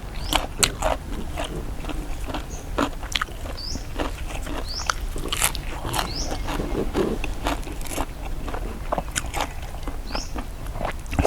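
Someone chews fermented pork sausage (naem) eaten raw, with repeated crunchy bites and wet mastication sounds up close, irregular in rhythm over a constant low background.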